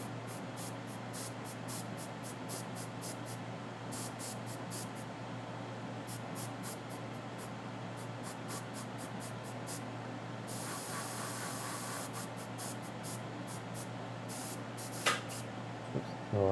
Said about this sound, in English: Time to clean the airbrush out